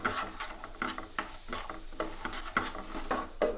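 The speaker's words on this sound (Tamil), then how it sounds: "இப்போ நம்ம வச்சுக்கிற இந்த ரவையை நம்ம இதில் போட்டு வறுத்துக்கலாம்" Semolina (rava) roasts in melted ghee in a pan, making soft, irregular scraping and stirring patter with a ladle, faint and close. The small clicks and rustles repeat at an uneven pace for rava laddu.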